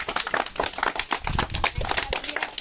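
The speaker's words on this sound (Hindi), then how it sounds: "ताली ताली ताली" A group of people claps at a Holi celebration, dense irregular hand claps that continue steadily throughout at moderate volume.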